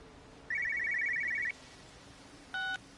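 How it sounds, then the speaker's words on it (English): A satellite phone rings in the video game Everybody's Gone to the Rapture, one long warbling electronic trill followed after a pause by a short tonal burst, faint and quiet against low background hiss. "It's a satellite phone or something."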